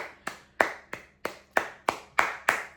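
Slow, evenly spaced claps, about eight sharp individual hits close to the mic in a quiet room, more like a lone person clapping than a crowd.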